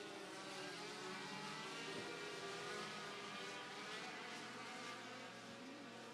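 Dirt factory stock race cars roaring around a dirt track under green flag racing, a steady, dense engine drone that stays loud and continuous throughout with no talk.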